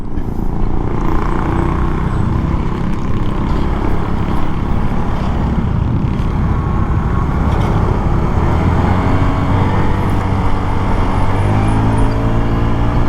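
A motorcycle engine idles with a steady, loud rumble that lasts throughout, with no voices over it.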